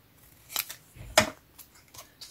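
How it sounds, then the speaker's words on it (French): Scissors snip through craft paper for autumn scrapbook embellishments, several short crisp cuts spaced irregularly, close and clear, with no talking. "je vais couper là"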